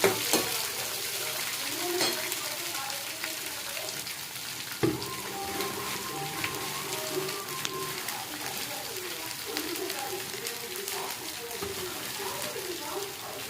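Onions and green chillies sizzle with half-roasted lentils in a pan for semiya upma, a steady close crackling hiss that runs throughout, with a faint voice in the background.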